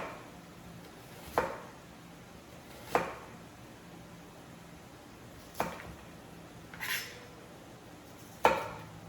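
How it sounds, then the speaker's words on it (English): A kitchen knife makes very thin slices for lasagna soup, giving five soft, evenly spaced cutting taps against a board, faint and close, with quiet pauses between strokes. "I'm just going to make some very thin slices"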